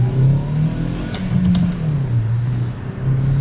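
A car pulls away slowly on wet paint after washing, its low engine hum steady and close with a slight rise in revs, alone with no talking.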